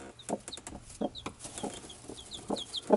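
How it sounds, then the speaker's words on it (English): Faint, scattered chirps and soft clucks from a hen and her chicks on a farm, high peeps mixing with lower hen-like calls at an irregular pace, somewhat distant. "I hear baby chirping as well as mama chirping"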